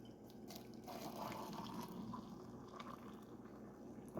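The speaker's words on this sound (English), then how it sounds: "Now that my water is boiling, I will pour it over my tea" Boiling water pours steadily over Thai tea leaves in a kitchen, a continuous soft gushing and splashing that stays even and fairly quiet throughout, with no talking.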